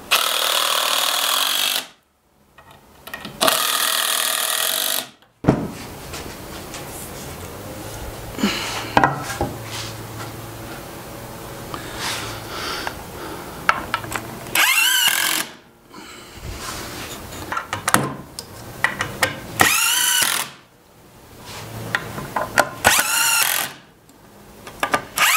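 A power tool drives screws into a table for two heat presses during assembly, in repeated loud whirring bursts of a few seconds each, separated by quieter handling knocks and pauses.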